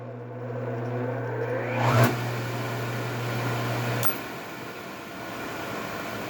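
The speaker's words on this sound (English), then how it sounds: "So I finally got the motor to start under its own power" A motor on a homemade three-phase generator setup starts under its own power, a steady mechanical hum with a strong low tone and a brief rising whine before it settles, then continues running with a sharp click partway through.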